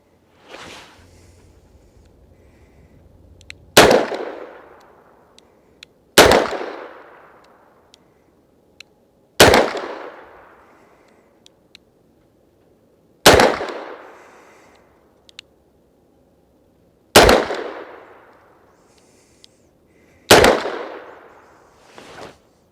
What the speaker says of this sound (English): So 6 double action shots from that distance of 25 yards